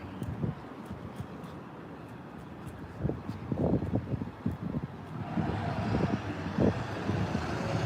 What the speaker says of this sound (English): Seems like a loud stalker truck.